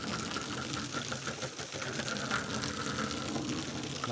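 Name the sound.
water sprayed from a hose onto roof panel groove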